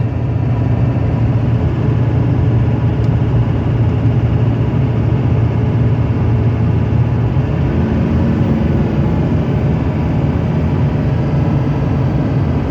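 LB7 Duramax diesel pickup truck under load, a loud steady low diesel drone that drops and shifts pitch partway through as the transmission upshifts, with no talking.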